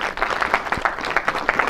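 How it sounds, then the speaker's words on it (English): An audience applauds at a university leadership talk by Upper Iowa University's president, honoring the board of trustees chairman; steady, dense clapping fills the room at moderate loudness without talk. "Round of applause for him"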